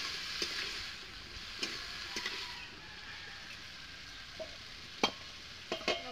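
Frying potatoes in a wok are stirred, with sharp, scattered scrapes and clinks of the utensil over a soft, continuous sizzle of hot oil.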